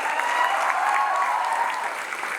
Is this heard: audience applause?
yes